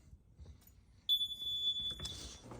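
A school fire alarm kicks in about a second in with a loud, piercing, steady electronic tone, then shifts into a harsher buzzing blare, sounding alone over a quiet room.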